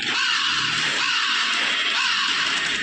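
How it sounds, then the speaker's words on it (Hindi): Repeated crow caws, roughly three harsh calls spaced about a second apart, against a loud steady wind-like hiss. "वो कौवा वही डाल पे बैठा हुआ ही काव काव की आवाज करने लगा"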